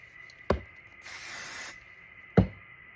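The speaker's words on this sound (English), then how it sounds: "so I'm going to spray adhesive that" One steady hiss of spray adhesive from an aerosol can onto fabric for a memory bear, lasting under a second between two sharp knocks, close and clear with no talk.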